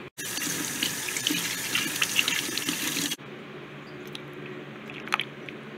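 Tap water gushes steadily into a sink while a scorpion's water dish is rinsed, then cuts off abruptly, leaving a quieter room with a few faint clinks and small handling noises.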